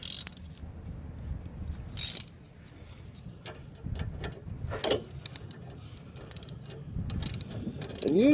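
Ratchet clicking near and loud in several bursts while tightening the locking nuts on a tie rod, with metallic clinks and short pauses between strokes.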